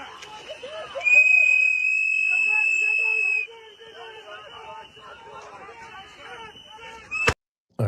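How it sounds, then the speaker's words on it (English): Whistles blown by a protest crowd, one loud sustained shrill tone over a clamorous crowd of voices, then scattered chatter and a sharp burst at the end. "God, the whistles, dude."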